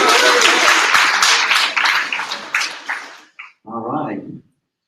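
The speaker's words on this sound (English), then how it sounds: "Let's hear applause, everyone!" A lecture audience in an information design class breaks into brisk applause for about three seconds, which fades quickly before a single voice speaks briefly.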